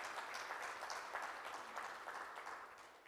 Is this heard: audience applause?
yes